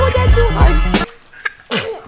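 A single sharp sneeze cuts in after someone speaks, followed by a short pause and a faint breath.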